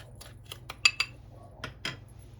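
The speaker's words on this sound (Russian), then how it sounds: "Перемешиваем." Powdered sugar and starch stirred together in a bowl for a strawberry galette, a spoon giving a few quick clinks against the side, with a second short burst of scraping afterward over a low steady hum.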